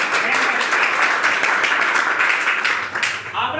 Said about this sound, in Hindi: एक बार अपने ताली बजाओ जरा जोर से